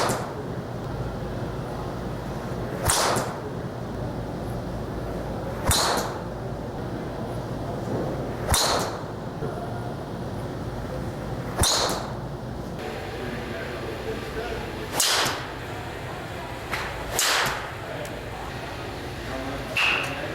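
Golf drivers, including the Adams Fast 12, Callaway RAZR Fit Tour and an 8.5-degree Ping G20, striking balls. Sharp single cracks land roughly every three seconds over a steady background murmur.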